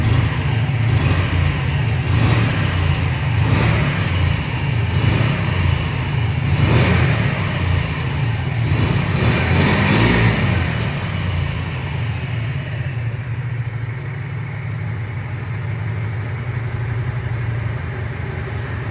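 A 2002 Honda VT 125 Shadow motorcycle engine, close by, revs up repeatedly in quick rising bursts, then settles into a steady, even idle for the final stretch.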